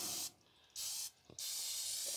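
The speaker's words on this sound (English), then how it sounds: "and we're going to spray the inside" Butter-flavored Pam cooking spray hisses onto the inside of acorn squash in three quiet, steady bursts, each under a second long with short pauses between, and no talk.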